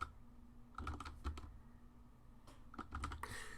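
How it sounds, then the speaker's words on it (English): Typing on a computer keyboard: short bursts of quick, close key clicks separated by pauses, fairly quiet with a low background hum and no talk. "I'm typing as I go"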